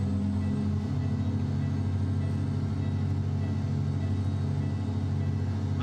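Steady low engine rumble of a Kenworth W900 truck in the video game American Truck Simulator, droning continuously at a constant pitch with a slight rise near the end, no talking.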